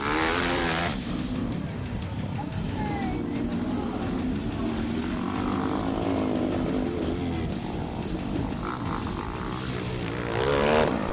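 Small lawnmower racing engines buzz and drone continuously in the centre arena at Summernats, several motors overlapping at close to moderate range with rising and falling pitch and a swelling pass near the end, under steady crowd ambience.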